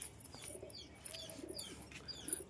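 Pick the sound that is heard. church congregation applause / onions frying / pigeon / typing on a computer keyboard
pigeon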